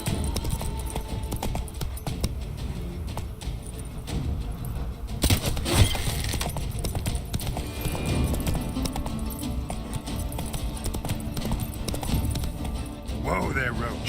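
Roach, a horse in Witcher 3, gallops with rapid rhythmic hoofbeats that run throughout, heard close under a voice speaking over the game audio.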